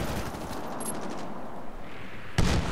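A bipod-mounted machine gun fires in a Sector Control match of Medal of Honor Warfighter, heard as dense rapid gunfire blending into battle noise, with a louder burst near the end.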